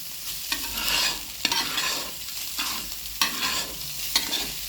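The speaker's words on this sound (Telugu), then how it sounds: "తందూరి కలుపుకోవాలి, లేకుంటే మాడిపోతుంది." Tandoori chicken masala is stirred as it fries in a pan, with rhythmic scraping strokes roughly every second over a steady sizzle, close and clear, with no voices.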